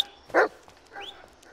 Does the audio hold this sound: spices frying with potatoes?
no